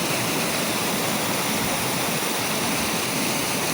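Steady broadband rush of water pouring over a small dam, continuous and fairly close, with no voices.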